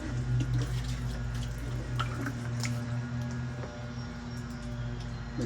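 Water running and splashing steadily from a hose or tap while larch landscape plants are watered, close and continuous with faint drips.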